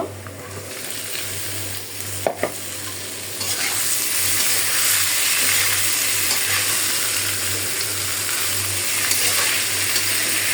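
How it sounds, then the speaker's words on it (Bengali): Small spice-coated fish poured onto fried onions in a pan, a brief clatter followed by a loud, steady, broadband sizzle of frying that swells and holds close up. "আমার পেঁয়াজটা কিন্তু হয়ে গেছে আমি এখন এই যে মশলা মাখানো ছোট মাছগুলো ঢেলে দিব"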